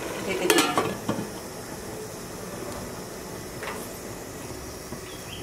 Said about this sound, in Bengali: পোলাটা ঢেকে দিই।